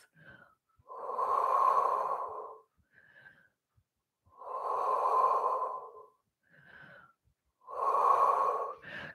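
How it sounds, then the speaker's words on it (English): Slow, deep breaths taken during a standing Pilates leg stretch: three long, airy inhale-exhale cycles with short pauses between them, close and fairly loud, with no talking. "Let's take a nice deep breath."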